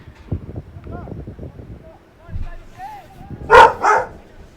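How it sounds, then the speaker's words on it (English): At a high school varsity soccer match, a dog barks a few times in the distance amid a murmuring crowd, followed by two loud, sharp yelps close by near the end. "As you can hear the barking."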